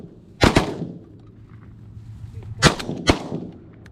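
Shotgun blasts on a late-season duck hunt for wigeon and pintails, one loud near shot followed after a pause by two more in quick succession, sharp and booming over a quiet outdoor background.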